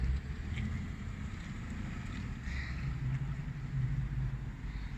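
An all-new Ford Mustang GT engine gives a steady, low, droning rumble mixed with some wind noise, continuous throughout with no talking.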